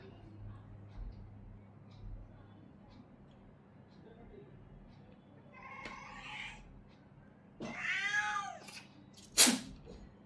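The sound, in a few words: cat meowing after waking from a nap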